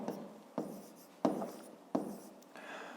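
A pen scratches across paper while numbers are written for a fifth-grade maths exercise, in four short bursts of writing with brief pauses between, close and fairly quiet.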